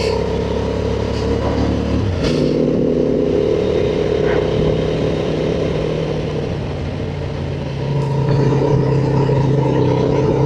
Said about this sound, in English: we're just sort of lugging the Transalp on this back road here, 5th gear, just cruising